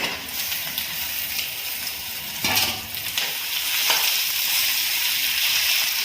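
Chicken coated with turmeric and chili powder frying in a pan, giving a steady, loud sizzle and hiss with a couple of brief stirring scrapes partway through.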